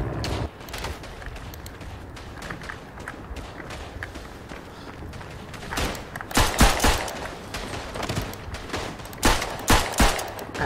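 Machine pistol fire in the Verdun video game, loud bursts of rapid shots crackling through the second half over a busy background of running footsteps and distant battle noise.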